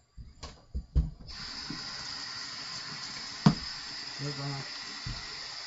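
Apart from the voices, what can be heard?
water rinsing off a straight razor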